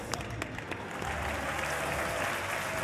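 An audience at a Japan-themed fan festival interview bursts into applause, a dense wash of clapping that starts with a few separate claps and swells into steady, fairly distant crowd applause.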